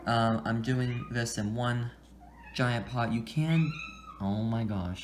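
A house cat meows several times indoors while someone talks through planting desert rose seeds in one large pot, the meows mixed in with her speech.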